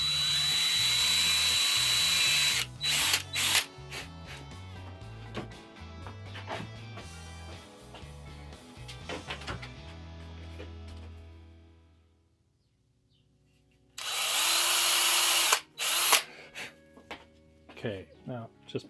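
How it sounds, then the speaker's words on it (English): A power drill whirs in repeated bursts nearby, stopping and starting, pre-drilling holes for window trim in a bus conversion, then falls quiet before a final loud spin-up. "I'm gonna pre-drill the holes on the ends"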